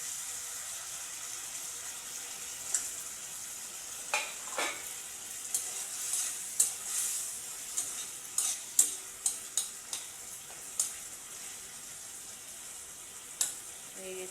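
Jackfruit seeds and potato pieces frying in spice masala in a pan, a soft steady sizzle under a run of sharp spoon taps and scrapes against the pan, with no talking.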